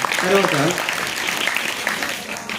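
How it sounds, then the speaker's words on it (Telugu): Parents and staff at a school parents' meeting in a village high school applaud, a dense wash of clapping that starts with a voice briefly audible over it and then carries on steadily to the end. "గట్టిగా చప్పట్లు కొట్టాలి."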